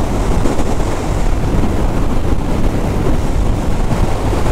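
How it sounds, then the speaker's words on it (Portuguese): Strong wind roaring over the microphone while riding a motorcycle on a Brazilian highway near Carapebus and Macaé, a loud, constant buffeting rumble with no pauses. "Pensa no vento que tá hoje."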